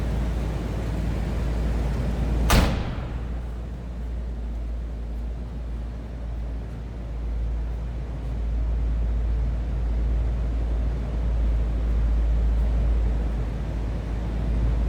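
A 1976 Buick Electra V8 engine idles with a steady low rumble, broken early by one brief sharp click, then settling into an even, smooth drone.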